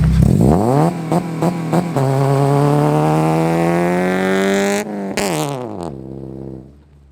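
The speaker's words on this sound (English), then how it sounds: "Some sort of burnout. That car is really loud." A loud car engine screams and revs with rising, drawn-out pitch, tires squealing during a burnout, then cuts off and fades away.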